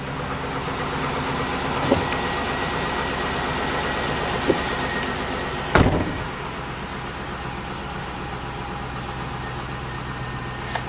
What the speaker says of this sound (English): that ticking noise is exhaust manifold